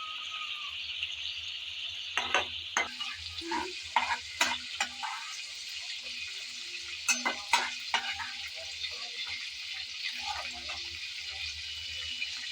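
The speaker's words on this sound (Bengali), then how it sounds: "তাই একটু ভালোভাবে বেজে নিতে হবে আমার চিংড়ি ভাজা হয়ে গেল" Prawns frying in hot oil, a steady sizzle with repeated scraping and stirring knocks from a spatula, some clinks and brief watery splashes, close up and with no talk.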